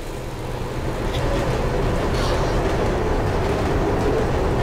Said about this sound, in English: Oh, there's a train.